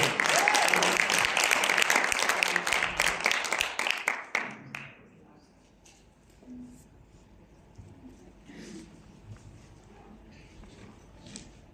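Church congregation applauding loudly and steadily for about four seconds, then breaking off into a quiet, murmuring room with faint scattered movement.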